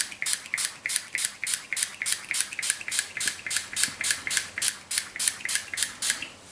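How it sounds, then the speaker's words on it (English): A hand spray bottle mists an isopropyl alcohol and water mix onto model railway ballast in quick, regular squirts, about three per second, close and crisp. "So I'm trying to mix the spray onto the ballast so I don't disrupt it too much."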